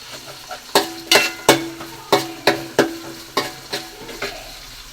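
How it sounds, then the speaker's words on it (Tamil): Small onions sautéing with green chillies and curry leaves in a pan: a steady sizzle under loud, regular spatula strokes, about two a second, close by and with no talking. "சின்ன வெங்காயம் நல்லா வதங்கிடுச்சு"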